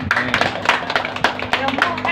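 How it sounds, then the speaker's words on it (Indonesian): A small crowd clapping hands at a thanksgiving gathering in a home, rapid uneven claps close by forming a lively patter, with some voices underneath. "Tepuk tangan dulu."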